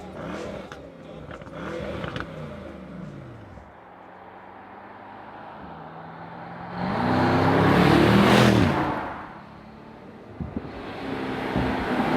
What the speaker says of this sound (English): So now some Autobahn riding, and we'll start with an acceleration.